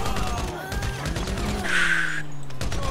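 Rapid bursts of zombie-shooting gunfire in a modded GTA 5 crackle continuously, with overlapping electronic game sounds and a tonal effect partway through.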